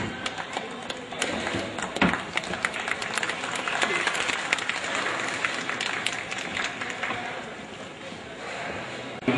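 Audience applause welcoming a guest at a Gujarati community event, a dense patter of many hands clapping at moderate distance, steady and continuing throughout before tapering slightly.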